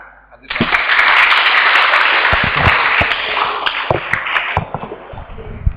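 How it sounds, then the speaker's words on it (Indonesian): An audience at an Islamic religious lecture in Banyuwangi breaks into loud applause that starts abruptly, holds dense and strong for several seconds, then thins into scattered individual claps and taps. "Tepuk tangan."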